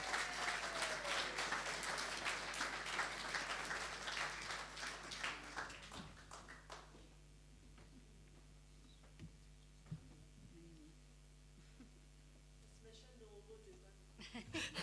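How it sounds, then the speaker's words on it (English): Audience applause in a hall at a song contest rises loudly at first, then thins out and fades after about six seconds, leaving quiet room sound with a few scattered claps and faint voices. "Give her a round of applause, please."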